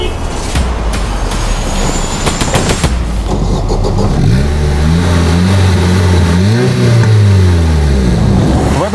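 Car driving over badly potholed city roads in Odesa, its engine loud and close throughout, with bumps and clatter early on and the engine note rising and falling as it revs and slows over the broken surface.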